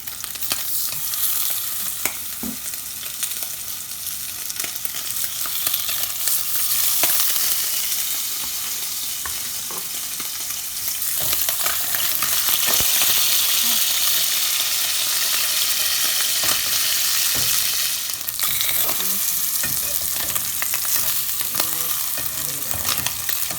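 Slices of Spam fry and sizzle in a pan for Spam musubi. A constant crackling sizzle runs throughout, with scattered sharp spatters and occasional scrapes from stirring or turning the meat.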